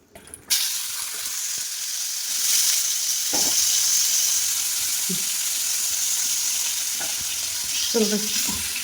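Food sizzles steadily in hot oil, a continuous bright hiss with occasional stirring clinks and scrapes.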